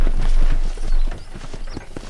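Horse hooves clip-clop at a steady walking pace in the video game Red Dead Redemption, close by, with soft ambient background and occasional faint chirps.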